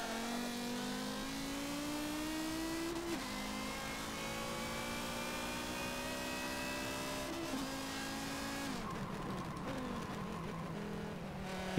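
A race car engine in the racing game Forza Motorsport 7 revs loud and continuously, its pitch climbing through each gear and dropping at the shifts, with a faint tire skid late in the run.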